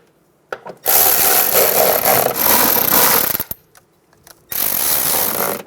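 Bolts being tightened into the inner fender liner of a 2014–2019 Toyota Highlander, heard as two long, loud bursts of a power tool's dense rattling whir with a brief pause and a couple of clicks between them.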